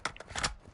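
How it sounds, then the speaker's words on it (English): A magazine swap during a reload in the Modern Warfare 2 video game: a short burst of metallic clicks and sliding clatter, close and fairly loud, with no voices over it. "Switching mags."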